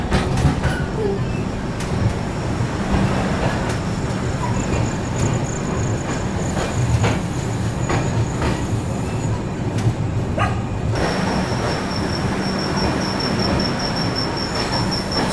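Arunachal AC Superfast Express (22412) running at speed through Gonda Junction without stopping, with a steady loud rumble of rolling wheels and intermittent high metallic squeals throughout.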